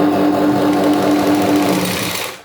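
A sewing machine runs steadily while stitching a cotton petticoat, a close, continuous mechanical whir with a fast needle rhythm that eases off near the end.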